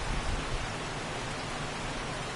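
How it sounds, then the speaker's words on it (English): Heavy storm rain in a survival video game, a steady broadband hiss of downpour that holds at an even level throughout with no talking. "This is one of the parts I was talking about where it rains, it tells me I'm wet."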